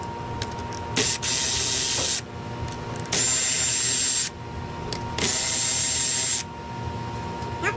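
A power tool loosens 10 mm bolts on the top cover of a Honda Sportrax 250EX or Recon ATV, three loud sustained whirring bursts about a second each, separated by pauses with small clicks and taps.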